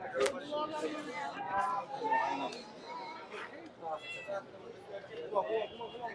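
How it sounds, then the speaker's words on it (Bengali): Mixed-breed cats meow repeatedly at a busy pet market, their cries rising above crowd chatter and nearby talking voices. "এখানে কিছু মিক্স বিড়াল আছে"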